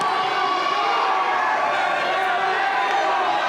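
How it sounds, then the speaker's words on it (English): Steady, loud wash of crowd noise, like applause and cheering, at an overtime 220-pound high school wrestling match in a gym, filling the space without a break. "Crowd giving them both a hand here"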